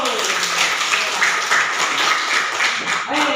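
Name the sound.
students clapping in a classroom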